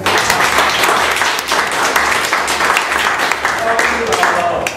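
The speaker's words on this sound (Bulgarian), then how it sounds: "Аплодисменти" A school audience at a Chemistry and Biology Day event breaks into loud, dense applause after a team score is announced, continuous clapping from many people with some voices mixed in.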